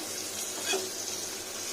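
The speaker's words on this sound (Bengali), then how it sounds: "দেখুন বলতে বলতে উচ্ছেটা ভাজা হয়ে গেল, কি সুন্দর ভাজা হয়ে গেল।" Bitter gourd frying in a pan gives a steady, close sizzle with a light stirring scrape partway through.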